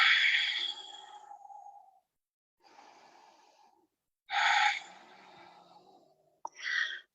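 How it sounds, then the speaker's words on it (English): Deep, slow breathing during a conditioning workout: several long inhales and exhales close to the mic, separated by short pauses, with a final quick breath. "Let's take 3 more deep breaths here."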